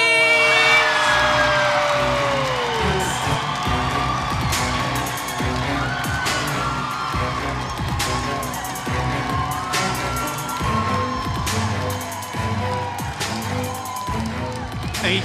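Crowd at the Mrs Earth 2015 pageant erupts in loud cheering, whooping and screams for the Philippines finalist, sustained over several seconds with music and sharp bangs running beneath the roar.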